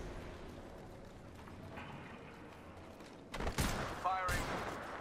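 Gunfire in the video game Apex Legends, quiet mechanical handling followed by sudden loud bursts of shots near the end, with a voice speaking faintly in the background.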